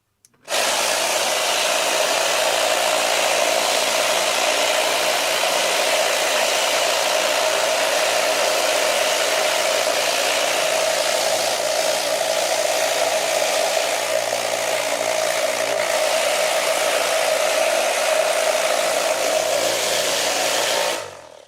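A lapidary rock tumbler holding about two dozen pendants with ceramic media and fine polish starts up and runs as a loud, steady, close rumbling whir for about twenty seconds, then stops abruptly.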